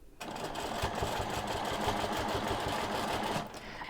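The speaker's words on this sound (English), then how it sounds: "I'm going to place that on my corner and stitch" Sewing machine running steadily as it stitches a quilt, a continuous fast mechanical whir with rapid needle clatter lasting several seconds before stopping near the end.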